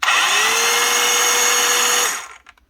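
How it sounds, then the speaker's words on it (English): An 18-volt brushed cordless circular saw, an EKIIV copy of a Makita, whines steadily at full speed for about two seconds, then the motor cuts off and spins down into quiet, with no one talking over it. "On EKIIV copy Makita brushed circular saw, an 18 volt."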